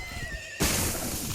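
A horse whinnies in the video game Far Cry 6, a loud, close neigh that bursts in partway through over a steady background game ambience.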